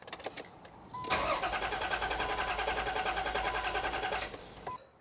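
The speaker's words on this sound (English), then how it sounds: "So I'm going to go start the car." A car engine cranks and catches at about one second, then runs at a steady, loud idle for roughly three seconds before shutting off, heard up close during a fuel-pressure test on the vehicle's fuel rail.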